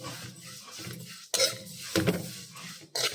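A utensil scrapes and clinks against a pan as shavige vermicelli is roasted and stirred, three sharp metallic knocks over a soft dry rustle, close and fairly quiet.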